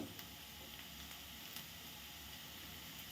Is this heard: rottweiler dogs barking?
no